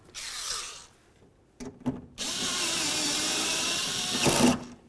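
Power tool tightening a window channel bolt inside the front door of a 2000-2005 Buick LeSabre: a brief burst of whirring, a few knocks and clatters, then a sustained close, steady mechanical run for a couple of seconds.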